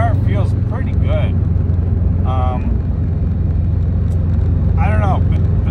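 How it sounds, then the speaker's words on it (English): A turbo-swapped 2.5 hillclimb car with a Cobb exhaust drones steadily and loudly in the low range throughout, while a person talks over it. "God, I love the sound of this Cobb exhaust."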